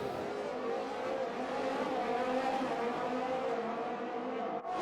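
Formula 1 race car engines in the F1 2021 video game during a race at the USA circuit, a continuous loud droning engine roar with a steady layered whine that holds throughout and dips briefly near the end.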